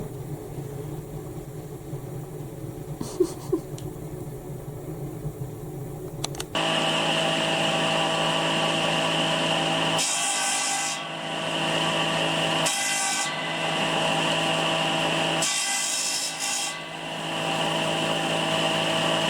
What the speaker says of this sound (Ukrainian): чоловік ріже дрова, це дрова всі з нашого садка